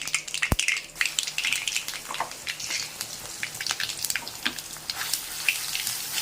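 Mustard seeds spluttering in hot oil while a thokku is prepared, giving a steady faint crackle with scattered small pops throughout, and one sharp tap near the start.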